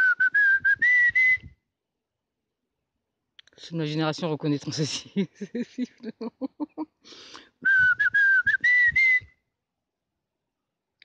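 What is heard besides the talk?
dog recall whistle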